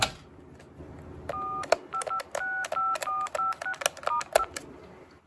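A Trimline-on-a-chip telephone sends a run of short DTMF touch tones, about a dozen clean beeps in an uneven rhythm, heard close over a faint background hiss.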